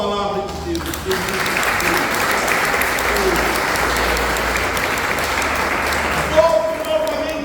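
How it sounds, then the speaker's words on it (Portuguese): Congregation applauding during a church sermon, dense sustained clapping filling the room for several seconds and tapering at the end, with a voice speaking briefly at the start and close. "Aplauda a palavra de Deus."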